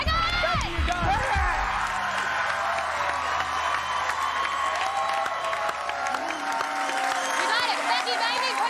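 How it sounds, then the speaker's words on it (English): A game show studio audience cheers, whoops and applauds continuously, a dense wash of claps and shouts with voices speaking over it at the start and throughout. "The crowd's already out of their minds."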